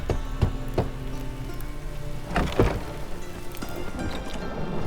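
Rain in The Witcher 3 video game patters steadily on a surface, with a few sharper splashes and knocks standing out against the constant wash.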